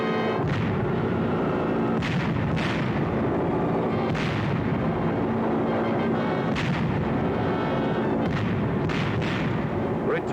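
Bombs from a B-24 bomber burst over Messina, Sicily in a steady barrage of heavy, booming detonations, about half a dozen sharp blasts rising out of a continuous low rumble, loud and close with no voices.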